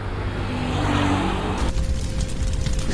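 A motorcycle in an animated horror story revs and pulls away, engine noise loud and steady at first, then dropping and fading as it leaves.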